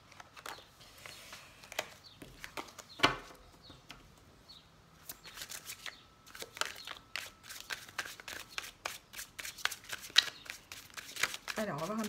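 Oracle cards riffled and shuffled by hand for a love reading, a steady run of soft papery flicks and snaps that grows busier toward the end, with a voice talking at moments.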